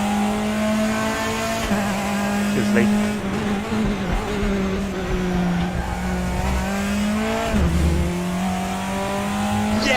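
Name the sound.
race car engines in the RaceRoom racing video game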